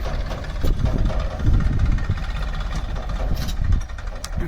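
A loud, nearby diesel tractor engine rumbling and knocking steadily as it reverses, with a few sharp clanks over the low drone.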